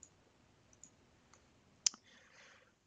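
A single crisp computer mouse click, close and fairly quiet, sounds while drafting in Autodesk Revit, with a few fainter clicks around it in near silence.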